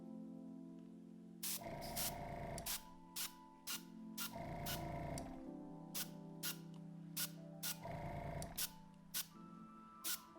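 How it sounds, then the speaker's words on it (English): An airbrush sprays paint onto white shoe midsoles in long steady hissing passes, each broken by short pauses and sharp clicks, loud and close with no talking. "Airbrush is turned on. We're just gonna lightly dust all over the midsoles"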